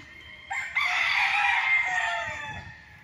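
Game-farm roosters in cages crowing, one long loud crow rising in over a background of other birds, with clucking and rustling underneath, close and dominant.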